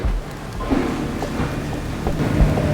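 Rain hiss fills the air with a low rumble beneath it, steady and fairly loud, with no voices.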